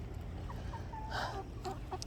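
Chickens clucking softly in short bursts over a steady low background rumble after a bad storm, fairly faint.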